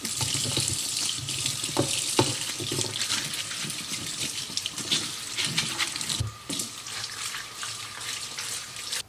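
A kitchen faucet runs steadily into a sink as fresh garden produce, likely garlic scapes, is rinsed, with clattering handling sounds and splashes throughout and no talking.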